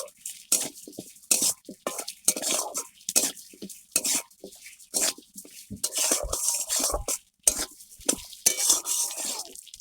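A spoon stirs turmeric, salt and potatoes in a pan for spinach-potato curry, giving irregular scraping and clinking strokes with faint sizzling between them, close and alone.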